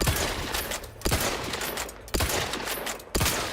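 Gunfire in the sci-fi shooter The Outer Worlds 2, loud close shots at roughly one-second intervals with short bursts and sustained combat noise between them, no talking.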